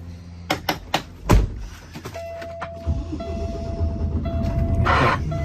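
A few sharp thunks of a truck door closing, then the heavy diesel engine of a 2014 Kenworth T680 cranks and starts, settling into a loud, steady idle with a faint whine.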